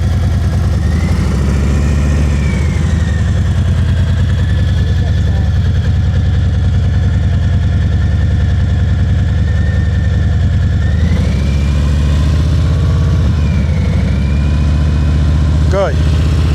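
Motorcycle engine held at raised revs against the clutch during slow-speed riding practice, a loud, steady close drone with slight rises and falls throughout, while a voice talks over it.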